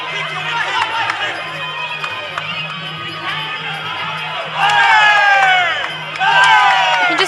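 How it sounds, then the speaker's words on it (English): A crowd at a Muay Thai fight in Curtin Stadium cheers and shouts, swelling louder in two bursts of excited whoops over a steady hubbub, with a commentator talking throughout. "The crowd behind us as well, getting right into it here at Curtin Stadium"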